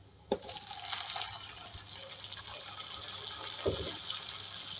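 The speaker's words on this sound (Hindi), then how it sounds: "तो अब इसके अंदर हम ऐड करेंगे दूध जो मैंने गला के रख लिया था, ये मैं डाल रही हूँ इसके अंदर।" Boiled milk poured into a pan of frying onions while cooking beef, making a steady, close gushing and bubbling hiss that begins with a sharp splash and carries on evenly, with no talking.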